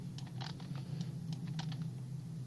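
Quick, uneven typing on a computer keyboard during frame-by-frame shape tracking, the light key clicks coming in small bursts over a steady low hum, with no voices.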